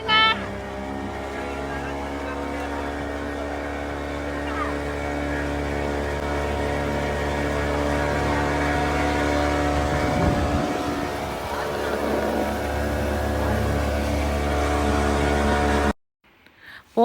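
A motorboat carries riders across the lake at Yercaud, its engine a steady, close drone with a low rumble that runs almost the whole ride before cutting off abruptly near the end, with faint voices underneath.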